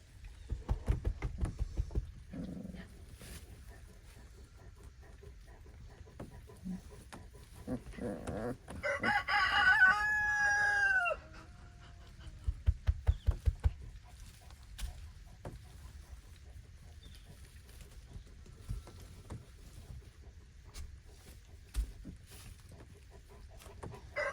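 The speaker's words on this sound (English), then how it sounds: "Say, shut up, Rooster." A rooster crows once, fairly close and loud, with a rising-then-falling call lasting a couple of seconds; faint background noise and scattered knocks surround it.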